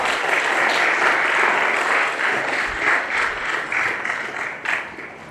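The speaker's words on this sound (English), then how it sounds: "Let's give a big round of applause." A large crowd applauds steadily and loudly at a university signing ceremony, a dense wash of clapping that swells briefly near the end before thinning slightly.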